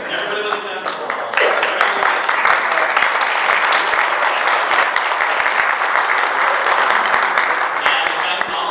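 Sustained applause from a seated audience at an arthroplasty and implant appreciation event, steady dense clapping filling the room for several seconds after a short quieter start, with a few voices mixed in.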